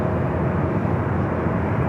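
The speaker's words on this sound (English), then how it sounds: "This is that delayed flight coming in from Cincinnati, Ohio." A delayed airliner arriving at LAX from Cincinnati, Ohio makes a steady, moderately loud jet engine rumble that holds even and unbroken, with no voices over it.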